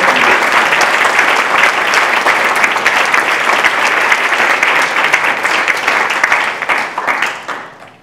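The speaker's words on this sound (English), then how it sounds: "let's give a round of applause for all of them" A full round of applause from a seated audience at a gathering honouring several people. Dense, steady clapping holds for about eight seconds, then thins and fades out near the end.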